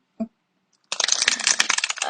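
A deck of oracle cards being shuffled up close: one soft tap, a pause, then a dense, continuous run of crisp riffling and flapping card noise that stays loud to the end.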